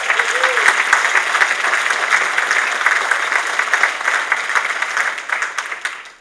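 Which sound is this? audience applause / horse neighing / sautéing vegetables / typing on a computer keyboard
audience applause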